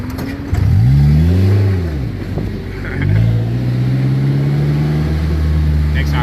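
A car engine revs hard and loud during a spin out, the pitch sweeping up and down in long surges before settling into a steady high drone, with wind noise throughout.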